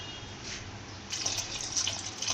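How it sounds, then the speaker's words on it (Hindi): Water poured from a glass into a pot of lauki dal (bottle gourd lentils), a steady close splashing stream that grows louder partway through. "इसमें मैं 2 गिलास पानी ऐड करूँगी"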